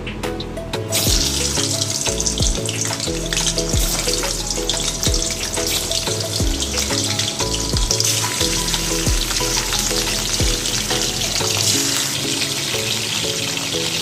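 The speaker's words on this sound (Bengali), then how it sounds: "আমি চিকেনগুলোকে অল্প করে ভেজে নিচ্ছি" Salted chicken pieces frying in a pan for a home-style chicken curry, a steady close sizzle running throughout, with a layer of music playing over it.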